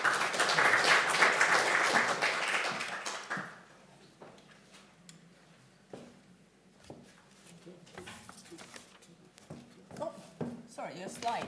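An audience at a lean construction talk applauds a speaker, with a burst of clapping for about three seconds before it dies away into quiet room noise, scattered knocks and a few voices.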